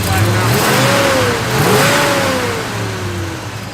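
A 1970 Chevrolet Chevelle SS engine revs up and settles back repeatedly while its carburetor is adjusted, loud and close, with people talking over it.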